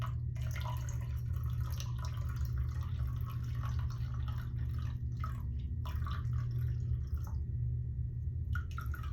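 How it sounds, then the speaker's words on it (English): Water pours steadily into a container on a scale, measured to 230 grams for mac and cheese dough, a continuous trickling flow over a low background hum, with brief drips near the end. "Pour water in until you get to 230 grams."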